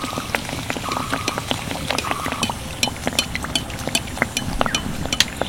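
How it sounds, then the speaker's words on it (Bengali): Homemade sweets fry in medium-hot white oil in a wok, a continuous close bubbling sizzle with scattered crackles and pops, and no talking. "মিষ্টিগুলো ভাজার জন্য কড়াইতে দিয়ে দিচ্ছি সাদা তেল। তেল মিডিয়াম গরম হয়ে গেছে, এবার আমি একটা একটা তেলের মধ্যে ছেড়ে দেবো।"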